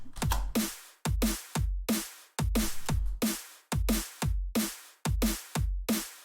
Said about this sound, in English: That's the drum and bass.